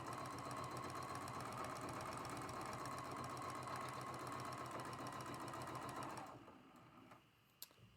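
Sewing machine stitching a quilt block seam at a quarter-inch allowance, a fast steady mechanical whir and rapid needle clatter running continuously, then stopping near the end, followed by a single small click.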